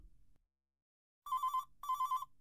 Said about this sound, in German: Das Telefon läutet.